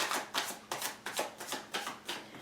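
Tarot cards are shuffled by hand in a series of soft, papery bursts, close up and quiet, repeating every half second or so.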